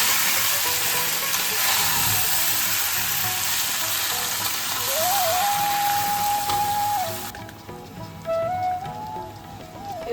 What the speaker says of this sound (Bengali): এবার আমি জল ঝরানো কচু শাকটা দিয়ে দিই।